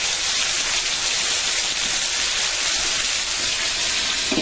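Burgers and bratwursts sizzling on a covered outdoor grill, giving a steady, dense hiss that holds evenly throughout with no voices.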